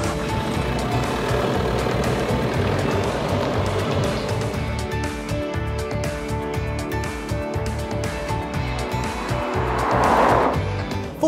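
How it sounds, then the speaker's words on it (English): A Nissan Qashqai dCi four-cylinder diesel engine hums steadily with a low rattly drone, its pitch holding fairly constant, with some tire and road noise and a brief swell near the end. "Four-cylinder diesels can sound quite rattly"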